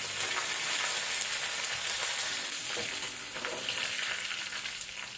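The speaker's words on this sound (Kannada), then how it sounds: "ಆನಂತರ ಡ್ರೈ ರೆಡ್ ಚಿಲ್ಲಿ ಒಣಮೆಣಸು, ಅದರ ಜೊತೆನೆ ಕರಿ ಲೀವ್ಸ್ ಒಗ್ಗರಣೆ ಸೊಪ್ಪು" Garlic, dry red chillies and curry leaves fry for a tomato saar tempering, giving a steady close crackle and sizzle in hot oil. Light stirring is heard throughout, and no one speaks.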